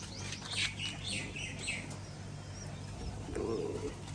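Pigeons kept as pets, let out on a rooftop on a breezy afternoon, coo and chirp in a few soft calls, moderately near against a quiet background.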